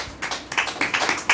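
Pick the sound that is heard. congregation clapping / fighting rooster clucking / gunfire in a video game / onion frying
congregation clapping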